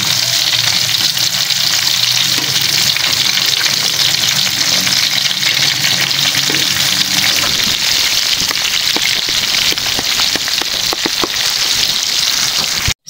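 Chicken fillet fries until golden brown in hot oil, a dense, loud, continuous sizzle and crackle with sharper pops toward the end, no voices.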